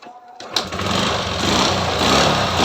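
A motorcycle engine that has just had new piston rings fitted is kick-started with the choke on. After a brief quiet start it catches and settles into a loud, steady, buzzing run close by.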